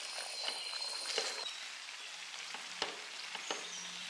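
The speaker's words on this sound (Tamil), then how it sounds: "நல்லாவே ஒன்று இலக்கி விட்டுறலாம்" Cooked cassava (maravalli kilangu) is stirred in a pot, giving soft scraping and sizzling sounds with a few sharper knocks of the utensil against the pot, close and moderately quiet, with no talking.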